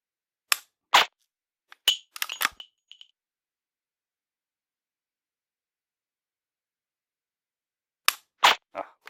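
Sharp, dry clicks from a laser training pistol during dry-fire practice, in a few quick clusters separated by a long silent gap, close and crisp with no talking.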